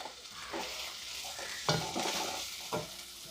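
Tomato and potato are stir-fried with ginger garlic paste in a pan for a banana flower masala dosa filling. A soft oily sizzle runs throughout, broken by several sharp scrapes of the spatula as the pieces are turned.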